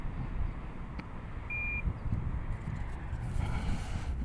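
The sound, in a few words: timer beep from an RC transmitter controller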